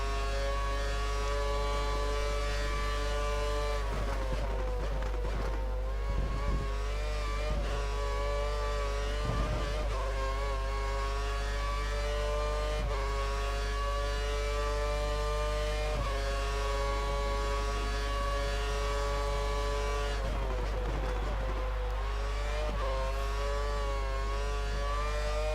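F1 race car engines in the F1 2013 racing game, including a Mercedes engine, with a sustained high-pitched whine that rises and falls through gear changes and revs, continuous and fairly loud for the whole stretch.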